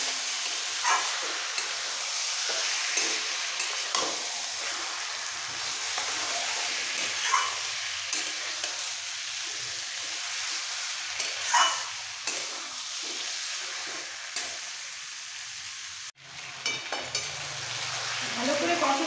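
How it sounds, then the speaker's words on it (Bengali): Chicken pieces frying with spices in a pan over medium-high flame for a light chicken curry, a bright continuous sizzle with repeated scraping strokes of a spatula stirring, close and steady, with occasional soft talking. "এবার একসাথে কষাবো মশলার সাথে সমস্ত মাংস।"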